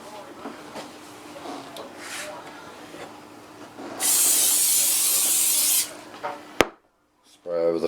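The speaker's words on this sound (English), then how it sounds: "Just ordinary canola spray." Ordinary canola oil spray hisses in one loud, steady burst of nearly two seconds over a roast chicken stuffed with onion and lemon, after quieter handling noises and before a sharp click.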